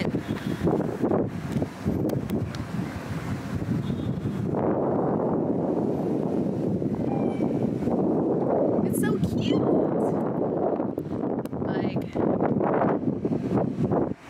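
Wind buffets the microphone in a loud, continuous low roar outdoors in Panama, with people talking over it.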